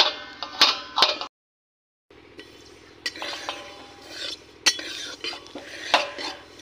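Sesame seeds roast in a pan for dry fruit laddu while a spoon stirs them in quick scraping, clinking strokes. The sound cuts out briefly near the start before the stirring resumes.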